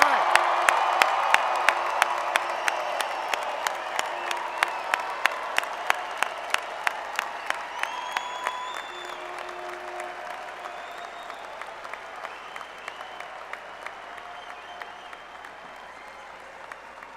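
A large commencement audience applauds graduates of a university business and economics college, a dense sustained round of clapping that slowly thins and fades, with scattered individual claps standing out and a few faint voices and whistles in the crowd.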